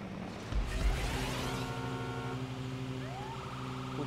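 Wailing ambulance siren in the game GTA 5 Online, a steady sustained tone with rising sweeps layered over low engine rumble, loud and continuous with no talk.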